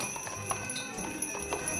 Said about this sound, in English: you can take a ride through town in their horse carriage